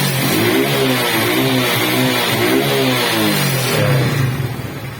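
A Suzuki motorcycle engine revs up and down in a few rising and falling pulls over a steady loud idle, close by and alone with no talk.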